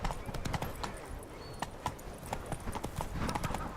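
Roach, the horse from The Witcher 3, trots along with steady clip-clop hoofbeats, close and clear over a busy ambient game background.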